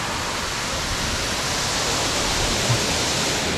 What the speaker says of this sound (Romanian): cred că e o cascadă aici